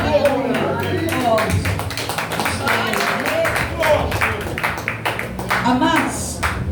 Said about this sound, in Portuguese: Pode exaltar o Senhor com as palmas mais alegres.